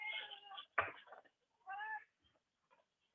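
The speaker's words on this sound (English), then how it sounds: "My cat's trying to answer you" A pet cat meows a few times at close range indoors, short plaintive calls with gaps between them, heard alone in a quiet room during a morning online class.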